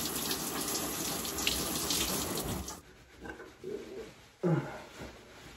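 Tap water runs steadily into a sink at home while hair is rinsed off, a soft continuous hiss that drops away midway, leaving faint splashes, drips and small handling sounds.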